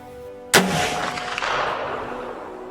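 A single sharp rifle shot fired at a buck from about 125 yards while deer hunting in Arkansas, loud and close, followed by a long rolling echo that slowly fades.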